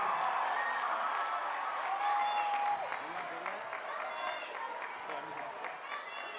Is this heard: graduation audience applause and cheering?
yes